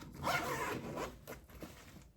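A zipper on a PGYTECH OneGo camera backpack is pulled open in a few quick, faint rasping strokes close to the microphone, with no one speaking.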